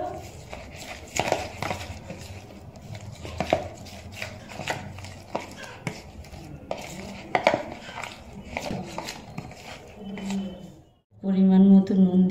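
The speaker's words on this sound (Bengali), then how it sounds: "লেবুর রস 1 চামচ দিয়ে ভালো করে মিক্সড করে নেব।" A spoon clinks and scrapes against a bowl while paneer tikka marinade with lemon juice and kasuri methi is mixed, giving irregular knocks and rattles close by, with a louder tonal passage at the very end.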